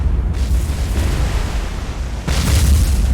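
Naval shore explosions in the World War II game War on the Sea, a continuous heavy rumbling boom that swells, fades and then erupts again with a fresh loud blast near the end, played alone without talk.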